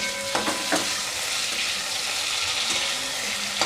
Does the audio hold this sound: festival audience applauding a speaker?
no